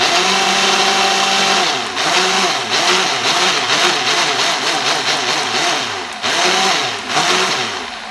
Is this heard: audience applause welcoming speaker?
no